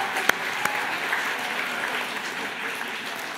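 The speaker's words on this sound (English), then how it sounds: "let's have a very loud cheer for them" An audience at a sustainability leadership event gives sustained applause, a steady wash of many hands clapping with a couple of sharper nearby claps early on and no speech over it.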